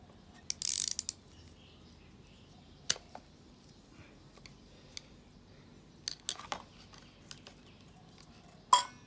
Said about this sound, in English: So I'm going to hold the axle, the Allen key, and then use my wrench like this.